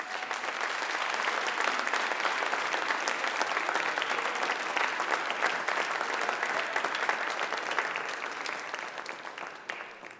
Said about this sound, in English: give them a massive round of applause and thank them.